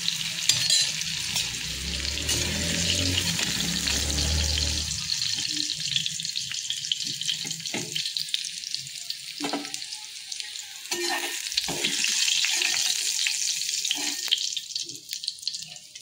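Potatoes fry in hot oil with a continuous close sizzle, joined by stirring and low clatter in the pan.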